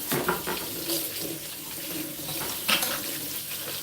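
Tap water runs steadily over a pineapple being rinsed at a kitchen sink, a close, continuous splashing stream with brief louder bursts as the fruit shifts under the flow.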